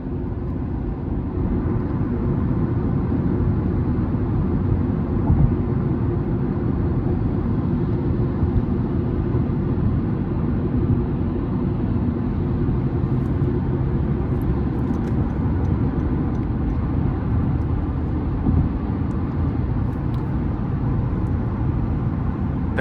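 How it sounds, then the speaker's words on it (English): Steady low road roar fills the cabin of a 2019 Honda Civic LX with a six-speed manual, cruising on the highway on winter tires behind single-pane windows. The constant droning rumble runs unbroken and evenly loud throughout, with no talk. "so I'm sure you can hear some road noise right now on the highway as we're cruising along."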